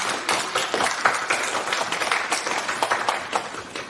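A crowd at a jazz-and-poetry evening during a 2024 jazz festival applauds, producing a sustained, moderately loud patter of many clapping hands that continues evenly throughout.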